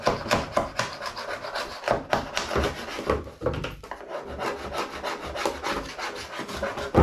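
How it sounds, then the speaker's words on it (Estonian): A sharpened putty knife scrapes PVA coating off a composite mould, a steady run of rough rasping strokes, close and loud, with a brief pause midway. "siis nüüd see siukene teravaks lihvitud sama pahtlabidas ja ma võtan selle niimoodi maha"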